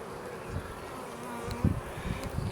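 Bees buzz around an open hive frame with the queen present, a steady close insect drone with soft thumps and handling noises beneath it.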